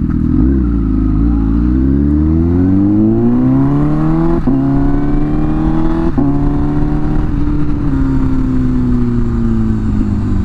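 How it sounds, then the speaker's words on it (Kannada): A Range Rover Sport with KA04 plates passes close by, its engine note rising steadily as it accelerates and then falling away, loud and continuous throughout with no voices. "range rover sport"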